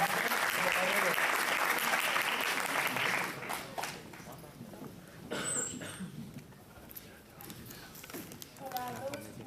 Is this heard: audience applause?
yes